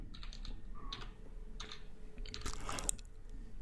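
Someone types short bursts on a computer keyboard while writing HTML link markup, with close, light clicks spaced irregularly over a low background hum and no talking.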